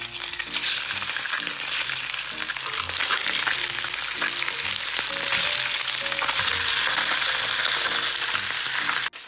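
Leftover sea bream pieces fry in hot oil in a wok over medium heat, a loud, steady crackling sizzle running throughout with light stirring clatter underneath.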